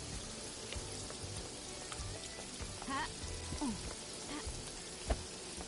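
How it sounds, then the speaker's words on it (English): Heavy tropical downpour in the open-world mystery game Paradise Killer, a dense steady hiss of rain with scattered drips and splashes, fairly loud and continuous throughout. "Tropical rain is actually pretty intense."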